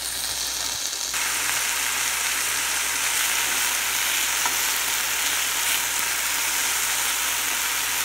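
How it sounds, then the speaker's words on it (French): Onions and chopped violets sauté in a pan with a steady, close sizzle and crackle that carries on without pause and with no voices. "donc je vais rajouter la violette qui est juste là, que j'ai hachée. Faire un beau petit sauté."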